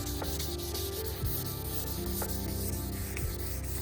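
Steady, close rubbing of 1500 grit sandpaper across a plastic car headlight lens, a continuous gritty scrubbing with quick back-and-forth strokes and no talking.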